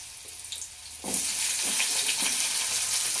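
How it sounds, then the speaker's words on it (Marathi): Finely chopped onion dropped into a hot pan for rava upma, a sudden loud sizzle after a quiet moment that stays strong and crackling, close up. "आता इथं मी एक बारीक कांदा चिरून घेतला. हा कांदा सुद्धा टाकायचा."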